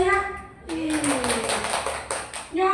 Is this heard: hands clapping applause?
yes